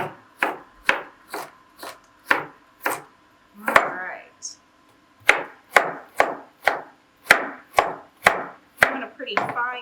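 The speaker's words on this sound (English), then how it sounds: "And we're just going to dice it, right?" A knife dices an onion on a cutting board in a steady run of crisp, close chops, about a dozen sharp strokes with a brief scraping pause midway and no talk over them.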